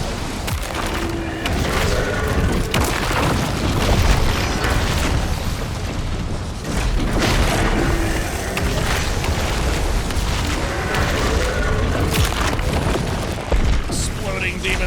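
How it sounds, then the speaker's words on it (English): Repeated booming explosions of demons in DOOM: The Dark Ages, thick bursts and blasts mixed with clanking mechanical game sounds, loud and continuous over the whole stretch, with game voices at times. "Exploding demons everywhere."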